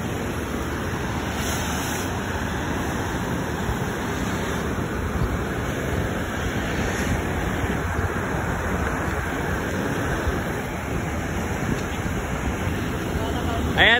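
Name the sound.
strong waves in a wave pool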